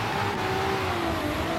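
Nissan Skyline GTR R34 with RWD rally suspension drifting in Forza Horizon 3, a steady loud engine drone with a high whine held throughout, no voices.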